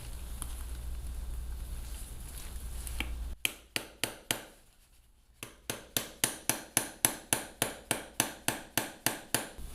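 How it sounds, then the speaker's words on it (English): Surgical tamping seats an ankle hook plate onto bone: a quiet hum gives way to a steady series of sharp, close metallic taps, a short pause, then a long even run of about fifteen evenly spaced strikes. "At this point, we can further tamp to further seat the plate onto the bone."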